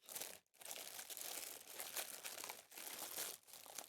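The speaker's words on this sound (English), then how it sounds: "Wrapped in plastic." Plastic wrapping around a newly unboxed guitar pedal crinkles and crunches in quick, close handling bursts, with brief pauses between handfuls and no talking.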